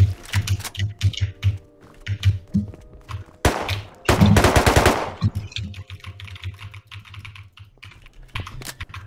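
A rapid burst of AK rifle fire rings out in a video game, lasting about a second mid-way, surrounded by steady clacking keyboard and mouse clicks.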